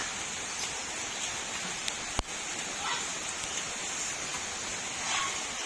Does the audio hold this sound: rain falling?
yes